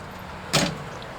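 A pest control truck cap topper shuts with a single short, solid thump, fairly close, against a quiet background.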